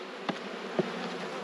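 Honey bees from a rescue hive buzzing in a continuous close droning hum, with a couple of brief louder passes near the microphone.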